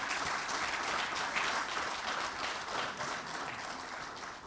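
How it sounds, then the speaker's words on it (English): An audience claps steadily at a ten-year university anniversary celebration, a dense sustained wash of many hands applauding in a large hall, loud and continuous without speech. "A big round of applause, ladies and gentlemen."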